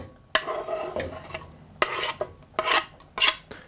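Chopped vegetables clatter and scrape into a cold frying pan in several bursts, with rustling and stirring between the louder tosses.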